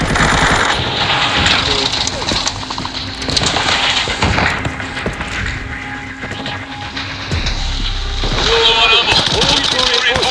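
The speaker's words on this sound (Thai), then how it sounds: "โอ้ยยิงอยู่นี่แหละยิงอะไรนักหนา" Rapid automatic gunfire rattles in bursts during a firefight in the video game Arena Breakout, loud and close, with a player talking over it.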